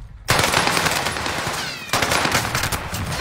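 Rapid automatic gunfire from a new weapon, a P40, in an online video game, bursting in loudly after a brief silence and continuing as a dense, sustained rattle for about three seconds with a second burst near the end.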